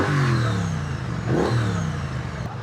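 A Triumph Speed Twin 900 motorcycle engine revs up close and loud, with one clear rise and fall in pitch midway over a steady running drone.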